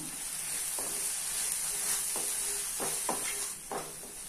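Mushroom curry masala sizzles steadily in a pan as chili powder is stirred in, with a continuous close frying hiss broken by several short scraping strokes of the spoon and no talking.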